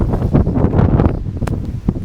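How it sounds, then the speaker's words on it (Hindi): Strong wind buffets the microphone beside the Ganges in Rishikesh, a loud, gusty rumble with rustling that rises and falls over two seconds, with no voices. "बहुत तेज हवा चल रही है"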